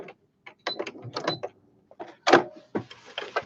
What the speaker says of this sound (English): I'm going to sew over just to make sure that that fabric isn't coming away